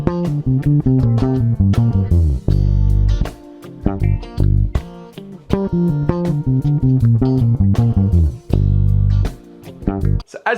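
Electric guitar plays a pentatonic lick within a musical phrase, with bursts of rapid picked notes alternating with sustained chords and brief pauses, loud and close with no talking.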